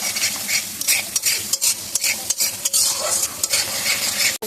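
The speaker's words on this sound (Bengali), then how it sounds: "মশলাটা একটু খুব ভালো করে কষাবো," Spice masala is stir-fried in a pan before prawns go in, giving a loud continuous sizzle broken by rapid scraping and tapping of a spoon against the metal.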